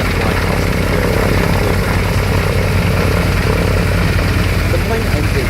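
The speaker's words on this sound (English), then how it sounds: "It's not every day you get a flight past the Wirraway." A CAC Wirraway, a vintage propeller-driven military trainer, flying past at an airshow, its engine drone steady and loud throughout, with a faint voice underneath.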